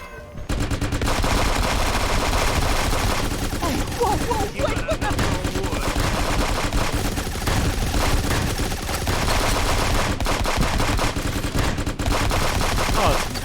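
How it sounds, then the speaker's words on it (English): Rapid, sustained bursts of automatic gunfire from an enemy turret in Fallout 76, loud and continuous over the full stretch, with a voice faintly underneath. "It sounds like I'm getting shot."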